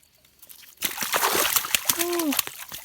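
A catfish splashes and thrashes in river water at close range, a sudden burst of sloshing spray that continues for about two seconds, with a short exclaiming voice over it.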